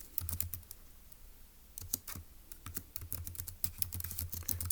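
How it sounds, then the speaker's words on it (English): Computer keyboard typing notes while working through a Turing Machine logic puzzle: close, fast, irregular bursts of key clicks with short pauses between them, and no voices. "let's go ahead and type that up in our notes in section E"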